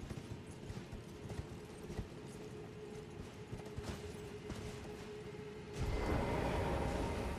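Horse hooves clip-clopping while riding in the Elden Ring video game, a faint, fairly regular trot of hoofbeats under low game ambience that grows louder and fuller near the end.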